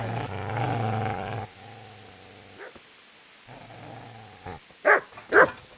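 A dog in the video game Kingdom Come: Deliverance gives a low, rumbling growl that fades and returns, then lets out two sharp, loud barks close by.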